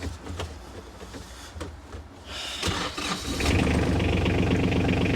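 A Kubota KT27 compact tractor engine cranks briefly, catches, and settles into a loud, steady diesel idle close by.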